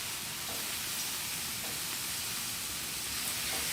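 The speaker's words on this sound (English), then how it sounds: "Let's get our carne asada on the grill." Carne asada sizzling on a Monument 41847NG gas grill, a steady, loud, broadband hiss with faint crackles throughout, no voices.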